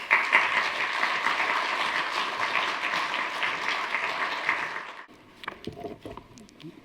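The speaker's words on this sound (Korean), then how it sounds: "우리 강성기 목사님 나오실 때 뜨거운 박수로 맞이하겠습니다" Warm church audience applause greeting a pastor at a Sunday worship service, dense sustained clapping for about five seconds before breaking off into a few scattered claps and quiet room noise.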